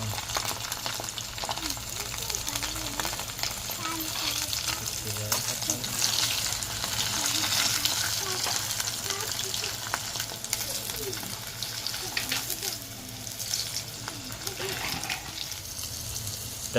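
Masala-coated fish pieces frying in hot oil in a home kitchen, a steady hiss and sizzle running throughout with occasional clatter and faint voices in the background.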